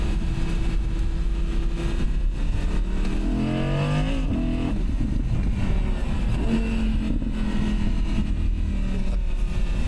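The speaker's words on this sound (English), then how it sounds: "Get it up gear." A 2023 Audi R8 V10 Spyder accelerating hard on a race track, a steady loud engine roar heard from inside the car with rising pitch as it pulls through a gear change.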